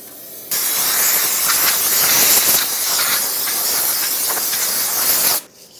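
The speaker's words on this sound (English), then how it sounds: "Use some brake parts cleaner." Brake parts cleaner sprays in one steady, loud hissing burst lasting about five seconds onto the hub of a 2013-2020 Nissan Pathfinder during a parking brake shoe job, then cuts off abruptly.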